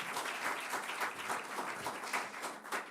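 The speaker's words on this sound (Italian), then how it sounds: "Un applauso anche per loro, mi concedete." Dense crowd applause at the presentation of the second Olive Oil Festival in Castelgomberto, Vicenza: steady, close, many hands clapping together without pause for the full stretch.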